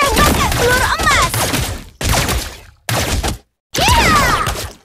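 Layla firing golden bullets in Mobile Legends, with repeated loud shot bursts and whooshing impacts in three or four close clusters split by short gaps.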